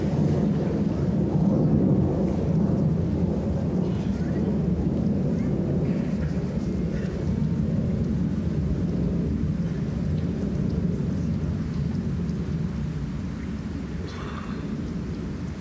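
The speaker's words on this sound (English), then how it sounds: "The thunder of that aeroplane." A deep, continuous rumbling roar fills the whole stretch, steady and loud with slow swells, like a large aircraft passing overhead.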